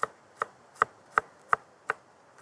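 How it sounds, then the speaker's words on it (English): A knife chops fresh parsley and dill on a board outdoors, six crisp, evenly spaced strokes about every third of a second, close and clear with no talking. "so we'll just chop that"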